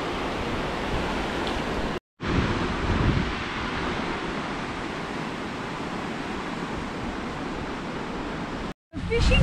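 Surf breaking on a beach at Elliot Heads, with a wall nearby, comes through as a steady, broad wash mixed with wind buffeting the microphone. It runs throughout, with two brief dropouts.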